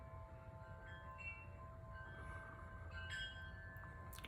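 Wind chimes outdoors, faint sustained metallic tones hanging over a constant rush of blowing wind, with a brief brighter shimmer near the end.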